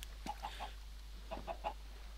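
Chickens cluck on a chicken farm in Minecraft, two short bursts of three quick clucks each, fairly faint and alone over a low steady hum.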